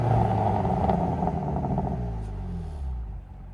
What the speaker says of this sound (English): This is Sport. Pretty much the same thing with a little less gurgle.